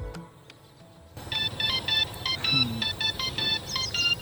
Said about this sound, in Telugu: దీన్ని ఆన్ చేసినప్పుడు ఏదో సంథింగ్ డిఫరెంట్ BGM అయితే వస్తుంది.